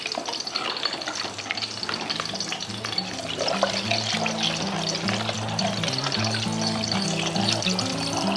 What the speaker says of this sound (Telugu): ఇప్పుడు ఇందులో వాటర్ వేయాలి